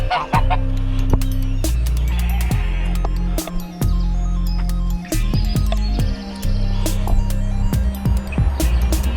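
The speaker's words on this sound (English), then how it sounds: "Here's the geese." Several geese honk and call over one another nearby, with sharp clicks and a steady low hum running underneath.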